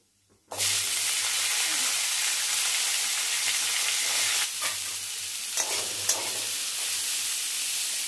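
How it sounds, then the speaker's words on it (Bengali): Cauliflower frying in hot oil with bay leaf, dried red chilli and cumin seeds, a steady loud sizzle that starts abruptly and continues throughout, with faint stirring scrapes and no talk. "আর প্রথমে ফুলকপিটা দিয়ে আগে ফুলকপিটা লাল করে ভেজে নিয়ে"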